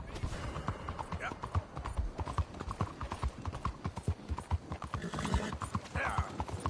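Horse hooves clip-clop at a steady gallop in the Red Dead Redemption 2 video game, close and continuous, with brief whinnies and a rider calling out over the rhythmic pounding.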